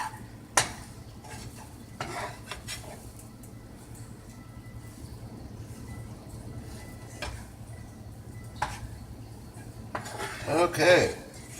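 Roux stirred in a pot for a black beans and rice dish, with soft scraping and clinks of a utensil against metal, plus a few brief louder knocks and a sizzle swell near the end.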